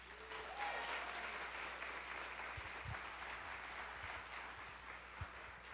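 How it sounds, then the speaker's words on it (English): Sustained applause from a school family weekend performance audience fills the whole stretch, steady and fairly loud, with a few low thumps underneath. "How about another round of applause?"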